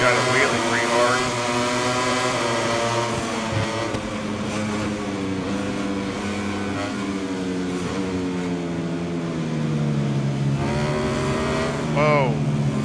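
A racing motorcycle engine in the video game MotoGP 22 roars at a launch start, its pitch rising and dipping as it revs hard and pulls away, loud and continuous throughout.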